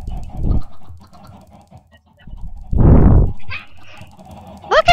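Chickens clucking nearby on a farm, short squawks and clucks in bursts with a louder flurry midway, mixed with a person talking.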